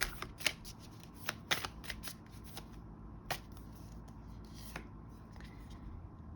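A card is drawn from a Starseed Oracle deck, giving soft, close papery riffles and quick flicks in small clusters, quiet and scattered over a faint background.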